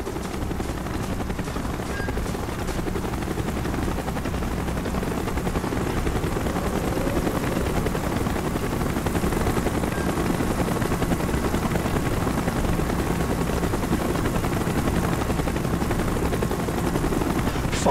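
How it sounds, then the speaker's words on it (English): A helicopter arrives in a Call of Duty Black Ops Cold War mission, its dense rotor chop and engine roar sustained and loud throughout, mixed with scattered gunfire. "Chopper's inbound."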